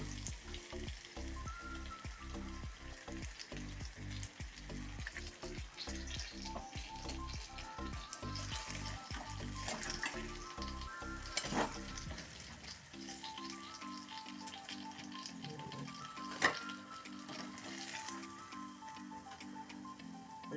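Banana fritters (pazham pori) fry in hot oil with a soft continuous sizzle, faint and close, joined by a rapid rhythmic ticking for the first half and a few sharp clicks later.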